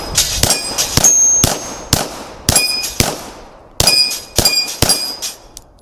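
An Atlas Hyperion 2011 pistol fires a quick string of about ten shots on an outdoor range, each crack followed by a ringing clang as a round hits a steel plate rack, loud and close with no talking.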